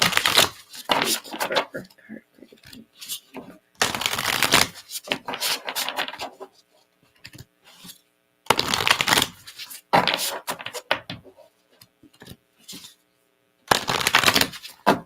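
A deck of cards shuffled for a reading, several crisp riffling bursts separated by quiet pauses, close to the microphone.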